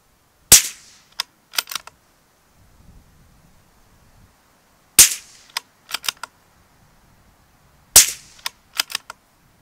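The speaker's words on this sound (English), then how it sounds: "I put a moderator on it, as you'll see. Beautifully quiet gun, actually, and it's one of the best 17 HMRs I've shot" CZ 457 MTR heavy-barrel 17 HMR varmint rifle fired with a moderator, three sharp suppressed shots spaced several seconds apart, each followed by quick metallic clicks of the bolt being cycled, in otherwise quiet surroundings.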